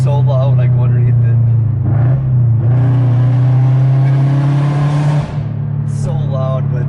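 Sports car fitted with an aftermarket exhaust, driving under a bridge: a loud, steady, droning exhaust tone close by, swelling briefly as the sound echoes off the structure.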